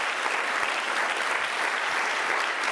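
A church congregation claps as an offering of applause during a sermon, a dense, sustained wash of many hands clapping at once with no voices over it.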